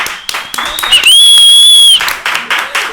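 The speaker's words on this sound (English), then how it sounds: "Let's clap it up for that." A short burst of clapping and cheering from a small group, with a high whistle or squeal rising over it for about a second.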